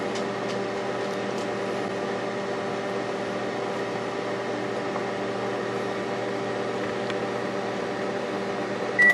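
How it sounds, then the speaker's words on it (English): Microwave oven heating nachos on high: a steady, even mechanical hum with fan whir runs unbroken throughout, close and moderately loud, with a brief beep-like click at the very end. "Let's give them a zap in the microwave."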